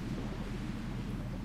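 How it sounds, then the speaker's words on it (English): Storm thunder rolls as a steady low rumble, dense and continuous with no distinct claps, heard alone without talk. "See, I don't like this storm,"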